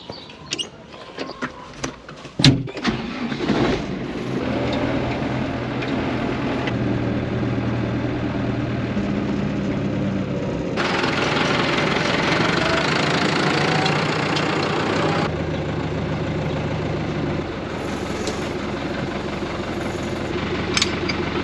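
A farm tractor engine idles and runs steadily while being hooked up to a cultivator, a low knocking diesel rumble that swells louder partway through after a few clanks at the start.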